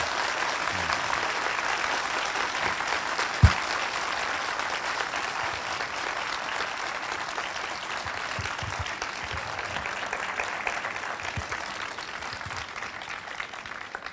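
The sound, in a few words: audience applause at literature festival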